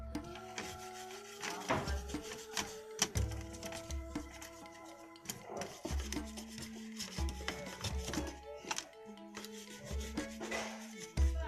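A brush scrubs a Tenda Wi-Fi router circuit board with circuit thinner, giving close, irregular bursts of scratchy rubbing strokes separated by brief pauses, over a faint low hum.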